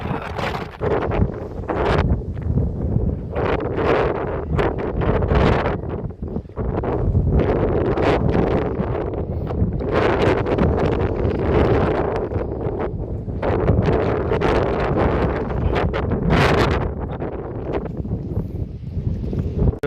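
Strong gusting wind near the sea in Jaffna buffets the microphone in loud, uneven rumbling bursts, with a rushing roar between gusts.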